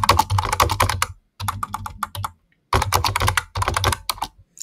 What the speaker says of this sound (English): I will just type in hello viewers, welcome to the channel.